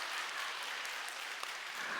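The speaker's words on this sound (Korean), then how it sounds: "뭐 박수 치려면 확실히 치든지." A church congregation applauding during a Sunday sermon, a soft, distant, steady roar of many hands clapping that holds evenly with no speech on top.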